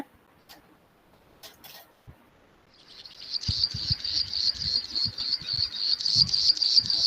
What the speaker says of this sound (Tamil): இப்ப பிளைன் பிரினியா பாருங்க.